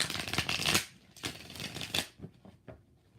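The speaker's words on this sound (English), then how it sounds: "One more shuffle." A deck of tarot cards is shuffled by hand in three or four quick riffling bursts, close and fairly quiet, with short pauses between them and no talking.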